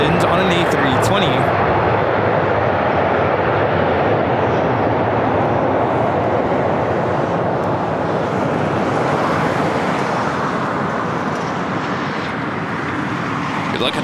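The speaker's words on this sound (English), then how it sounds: "This is Delta Airlines 2975 coming in from Portland on an A320." A Delta Airlines Airbus A320 arriving at LAX from Portland, a loud sustained roar of jet engines with a rushing, wind-like wash that eases slightly toward the end.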